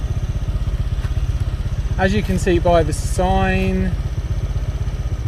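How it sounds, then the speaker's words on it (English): A motorbike engine idles steadily near the mic with an even, rapid low throb, stopped beside a map sign near a waterfall on Koh Chang, Thailand; someone talks briefly over the running engine. "let's turn the motorbike off."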